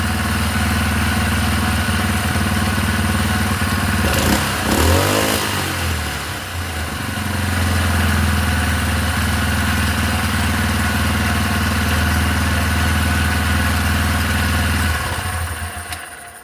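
A four-stroke engine cranks and catches, then settles into a steady, loud idle close by with a brief rev before cutting out near the end; no talking.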